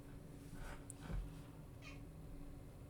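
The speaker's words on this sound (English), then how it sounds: "What do you want, cat?" A cat meows a couple of short times nearby, quiet overall, with a faint low thump between the calls and no speech.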